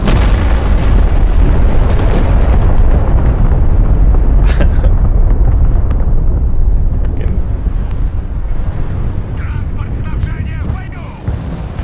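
Bombing explosions in an online video game, a loud, dense rumble of booms and blasts that roars continuously and then fades slightly toward the end.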